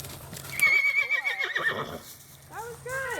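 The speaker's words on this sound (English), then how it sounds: "I am going to push him into the canter for a stride or two" A Mustang horse pushed briefly into a canter gives a loud whinny and neigh up close, with soft hoofbeats underneath and a person speaking over it.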